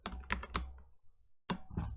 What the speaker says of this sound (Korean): 일일이 타이핑 하려니까 힘드네